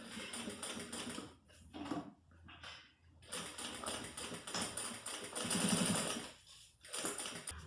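A sewing machine backstitches along a zipper on a fringed handbag, running in bursts of stitching broken by short pauses, close and fairly loud.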